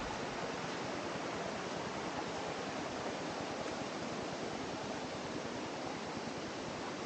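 Curug Halimun waterfall in Sobang, Lebak, Banten, a constant broadband rush of falling water, dense and unbroken for the whole stretch, heard alone without voices.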